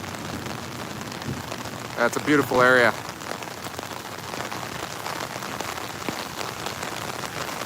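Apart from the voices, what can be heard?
rain falling in Parque El Poblado, Medellín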